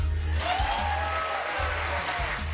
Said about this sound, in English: That one got a lot of applause.